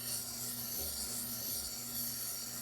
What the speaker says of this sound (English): it's also grinding side to side on the chisel